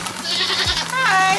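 A young goat on a farm at feeding time with hay gives a short wavering bleat, close and loud, after a brief lower vocal sound.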